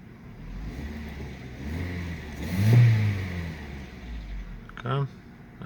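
A Vauxhall Astra petrol engine with an LPG conversion, running on petrol, idles then revs up in one smooth rise before settling back, heard nearby with someone talking over it.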